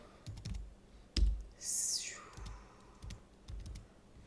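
Keys tapped on a lighting control console keyboard, a handful of sharp, close clicks spaced irregularly with one louder press and a brief brighter whir in the middle, no talking.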